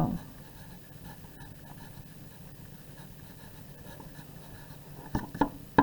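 Pen writing math by hand on paper, soft continuous scratching strokes over a low background hum, with a few louder taps and scratches near the end.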